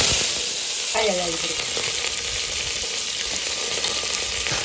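Mustard seeds, urad dal and brinjal frying in hot oil in a pan, giving a loud, continuous sizzle with a brief scrape of stirring near the start.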